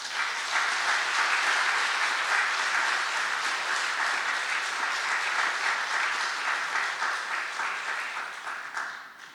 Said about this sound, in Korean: 사에서 함께 격려의 박수 해 주시기 바랍니다